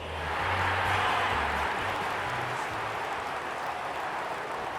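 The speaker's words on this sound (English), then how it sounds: "The crowd already making plenty of noise as the captains come together" A broad, continuous roar of a large stadium crowd at a Hawthorn versus North Melbourne football match, distant and steady, with a faint low horn-like tone drifting underneath.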